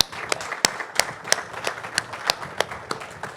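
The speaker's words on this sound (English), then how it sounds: "Let's give a giant round of applause" Sparse, distinct hand claps from a small audience at a luxury real estate panel event in Orlando, a few sharp, fairly quiet claps standing out at uneven intervals.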